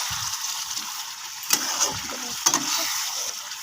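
Fried pointed gourd goes into a Bengali fish curry with potato, bringing a soft, steady sizzling hiss at low volume, broken by two brief utensil clinks.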